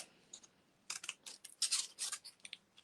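New scissors snip through paper while snowflakes are being cut, giving a quick run of crisp, close slicing and rustling strokes in uneven bursts, fairly quiet and with no talking.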